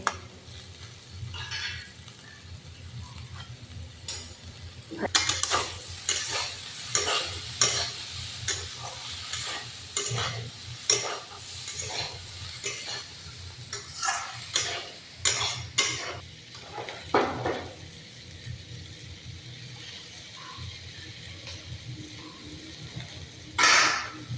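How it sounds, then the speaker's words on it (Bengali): Potatoes sizzle steadily in a frying pan while a utensil stirs and scrapes against the metal in frequent sharp strokes, close and fairly loud throughout. "কত সুন্দর ভাজা হয়ে গেছে।"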